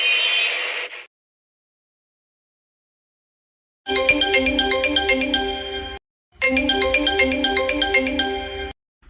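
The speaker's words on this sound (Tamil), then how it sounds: "என் மைனிக்கு ரிங் போயிட்டே இருக்கு, எடுக்க மாட்டேங்குது" A mobile phone ringtone rings unanswered in two long melodic bursts after a brief earlier snippet, loud and close with silence between, no voices.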